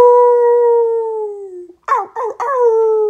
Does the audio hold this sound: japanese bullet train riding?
no